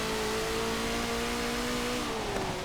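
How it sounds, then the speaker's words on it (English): Race car engine in Forza Motorsport 7, held in a steady high drone through an oval during a four-wheel drift in wet weather, with pitch sliding slightly as the throttle is balanced, alone with no talk. "Just getting that four-wheel drift in there, coming through the oval, balancing the car on the power."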